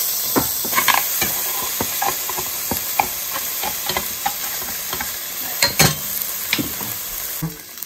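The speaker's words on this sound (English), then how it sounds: "So I'm adding to this just a little squirt of ginger, and then we're gonna add some garlic as well." Ginger and garlic sizzle in a hot pan, a steady frying hiss broken by frequent stirring clicks and scrapes, close and clear with no talking.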